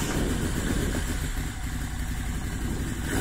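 A Moto Guzzi V7 Stornello with its V2 engine idles close by, a steady low throb with a faint mechanical clatter, holding even throughout with no voices.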